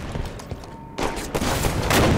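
Gunfire in Halo 5: Guardians multiplayer pops in a loud, continuous flurry of overlapping shots and booms, dense and close, with little space between reports.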